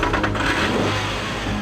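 A Nissan 3.3-litre V6 engine revs steadily, a dense mid-range roar sounding loud and close for a brief moment without any voices.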